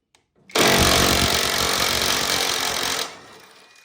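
A power tool, likely an impact wrench, rattles loudly and continuously for about two and a half seconds while running off VW cab bolts, then cuts out abruptly to a quieter tail.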